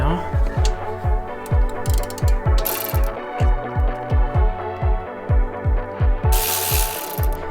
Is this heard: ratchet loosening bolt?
yes